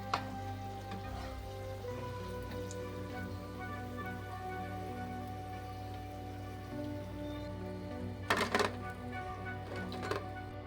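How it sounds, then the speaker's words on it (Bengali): Potato pakoras frying in hot oil, making a steady, soft crackling sizzle like light rain, with a few sharper pops near the end and no talking. "এভাবে আমি বাকিগুলোও ভেজে নিচ্ছি"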